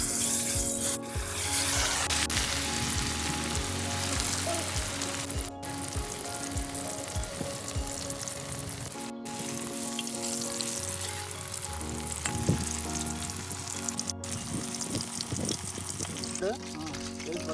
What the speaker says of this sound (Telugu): ఈ చేపని ఆ నూనెలో వేసి ఫ్రై చేసేద్దాం.